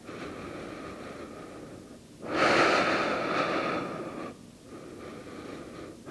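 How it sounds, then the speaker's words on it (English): Slow breathing during a pregnancy core and pelvic floor physical therapy exercise: a quiet steady background, then one deep, close, audible exhale lasting about two seconds, and softer breaths after. "Two more breaths."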